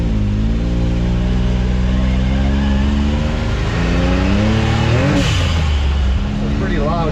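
A 2021 Can-Am X3 side-by-side with an RPM blow-off valve drives with a loud, steady engine drone and rising revs, then a sharp hissing release as the throttle lifts, close up with the panel off.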